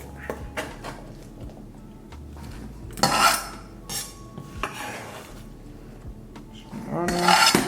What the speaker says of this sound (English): So now we're gonna put everything into the bowl.